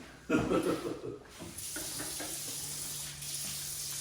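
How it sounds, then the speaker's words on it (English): Tap water runs steadily into a sink as hands are washed, with a burst of splashing at the start and then a continuous hiss of flow close by. "it's time to wash my hands again."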